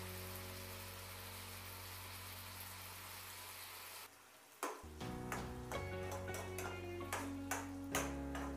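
Green chili masala cooks covered in a pan, first a steady hissing sizzle, then, after a clatter of the lid, sizzling continues with a series of sharp metallic pings and ticks.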